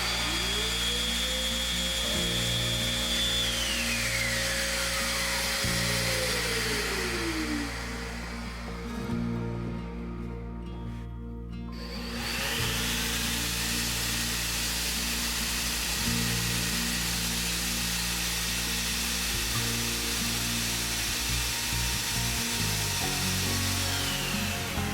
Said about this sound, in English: When you turn on your sander, it will trigger the vacuum to come on a second or two later.